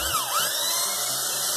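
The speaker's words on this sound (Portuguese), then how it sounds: "Então você vai pegar a furadeira e você vai ver o centro aqui, ó, do pneu" An electric drill whines steadily at high pitch as it bores the first hole through the centre of a used tyre, a continuous close whirr with no talk over it.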